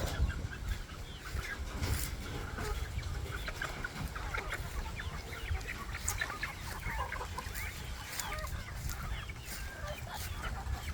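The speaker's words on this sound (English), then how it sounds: "Some more chickens." Several chickens cluck and squawk around a noisy farmyard in Belize, calls overlapping irregularly at close to moderate distance.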